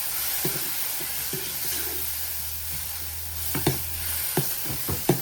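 Turmeric, chili powder and ground coriander-cumin are stirred into a sizzling pan over low gas. A soft, even sizzle runs under a low hum, with spoon scrapes and taps landing irregularly.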